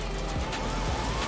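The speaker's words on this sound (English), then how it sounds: "And every time I turn my sirens on," Police car siren in Grand Theft Auto V, a faint rising wail buried in a dense wash of game noise and engine rumble for just over a second.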